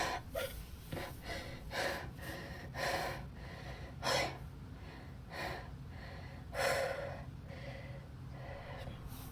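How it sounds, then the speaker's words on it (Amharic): Out-of-breath panting, a run of sharp gasping inhales and snorting exhales in an uneven rhythm, close and fairly quiet, with no speech. "ነፍቼው ነው ትንፋሽ አጠረኝ።"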